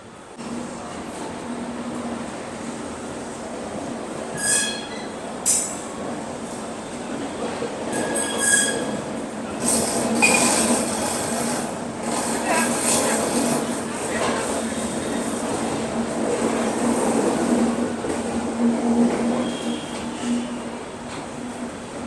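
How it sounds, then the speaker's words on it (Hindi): Inside a 3AC economy coach of the Indore Patna Express just after leaving Indore Junction, a steady loud rumble of rolling wheels runs throughout with intermittent metallic squeals and clatter, and faint voices murmur in the background. "अपने निर्धारित समय से 10 मिनट की देरी से हम लोगों का डिपार्चर हो चुका है इंदौर जंक्शन से।"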